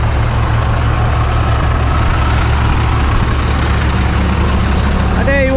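A pickup truck engine idling on a farm during wheat planting: a loud, steady low rumble that runs unbroken throughout, with a brief chirp right at the end.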